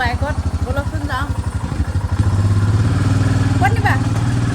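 A Himalaya motorcycle runs close by as the rider sets off, with a voice talking over a pulsing engine at first, then a louder, steady engine drone taking over.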